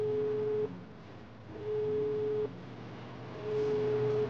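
An unanswered phone call's ringback tone sounds three times, each a long steady beep of about a second separated by pauses, heard alone with no talk.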